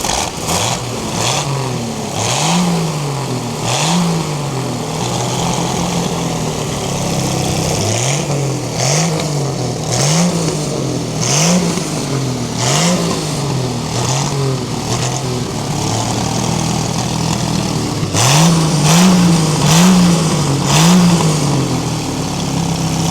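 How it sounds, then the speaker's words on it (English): An International B250 tractor, lengthened and tuned, runs close by with a lumpy, throbbing idle broken by repeated rhythmic blips of revving that rise and fall, loud and alone with no talk. "B250 International tractor that's just obviously been lengthened and bloody tuned pretty nice"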